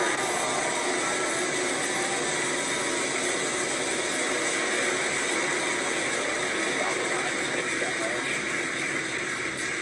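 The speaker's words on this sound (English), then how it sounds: "Ignition. Engine full power. And liftoff." Roaring rocket engine at liftoff during the Ax-3 launch, a continuous broadband rumble that holds steady and loud without letup, with talk heard over it.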